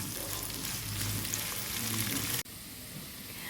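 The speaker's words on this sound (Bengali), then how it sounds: "এবার এগুলোকে একটু ভেজে নেব।" Chopped onion, ginger and garlic sizzle steadily in hot oil with a dense, crackling hiss that cuts off abruptly near the end, leaving a softer sizzle behind.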